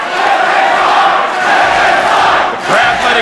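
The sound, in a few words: wrestling event crowd shouting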